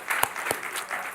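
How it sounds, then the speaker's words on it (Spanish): A church congregation applauding during a Spanish-language service, with steady, close, moderately loud clapping and no distinct voices. "Démosle un aplauso al Señor Jesús."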